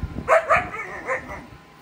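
A dog barks several times in quick succession, fairly close, with a few sharp yips trailing off.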